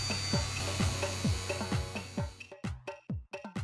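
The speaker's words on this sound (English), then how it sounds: "now I'm at the same step of sanding everywhere" Rhythmic hand sanding on a plastic headlight lens with 500 grit sandpaper, a close series of scratchy back-and-forth strokes about twice per second over a steady hum, growing choppier toward the end.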